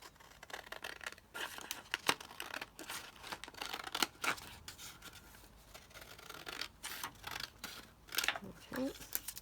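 Scissors cut through vellum paper at close range in a run of short crisp snips with slight crinkling, and a voice talks intermittently over the cutting.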